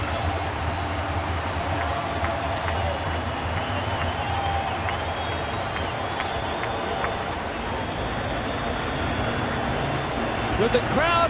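A baseball stadium crowd roars after a grand slam, sustaining a dense, steady wash of cheering and applause throughout, with a commentator talking over it.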